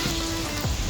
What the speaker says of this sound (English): because it's raining, Mark's over there, he's going to be soaking